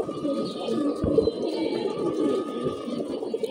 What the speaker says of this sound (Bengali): ঘরের কবুতর